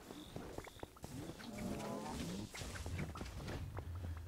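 Cows lowing on the cow level of a video game, several low moos layered with shuffling footsteps and faint game ambience at moderate volume.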